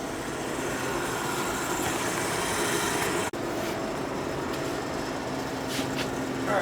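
A freshly broken-in Camaro race engine idling, a steady, dense rumble held at constant level with one sharp click partway through and faint voices in the background.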